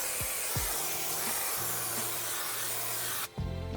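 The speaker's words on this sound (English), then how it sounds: "can you spray this edge all the way down to there, please?" An aerosol can sprays contact adhesive onto a van's interior panel for carpet lining, a steady close hiss lasting several seconds that cuts off abruptly near the end.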